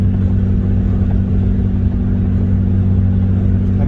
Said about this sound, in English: You're probably hearing the exhaust drone.